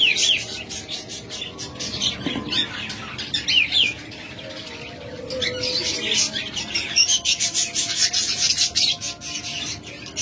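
Albino and lutino budgerigars or cockatiels, sold as a pet pair, chirp and tweet in a busy chorus with some wing flapping. The sound is steady and close throughout, with faint background voices.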